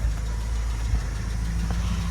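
A classic Mini Sky with mild modifications idling at close range during a tuning session, a steady low engine rumble with slight uneven pulsing and a faint knock.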